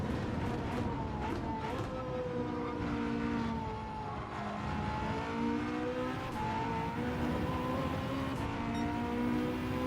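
Engine of a front-wheel drive car racing in Gran Turismo 7, rising and falling through the revs with gear changes and a brief dip, loud and continuous over a broad road roar.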